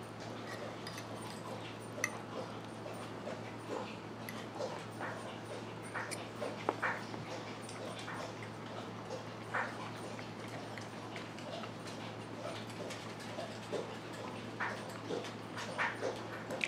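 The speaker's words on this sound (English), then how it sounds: "That's my dog in the background trying to get a drink of water." Faint, irregular lapping and slurping of a dog drinking water somewhere in the background, over a steady low hum, with small clicks and scuffs.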